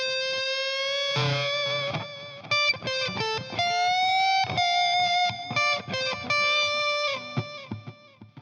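Electric guitar lick played fast with heavy distortion, a rapid run of bright, sustained driven notes with quick bends and slides, close and alone.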